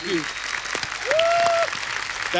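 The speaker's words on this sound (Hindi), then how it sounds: "एक बार जोरदार तालियां हो जाए" A studio audience applauds on a Hindi comedy show, dense continuous clapping and cheering throughout, with a voice and a brief gliding musical tone over it.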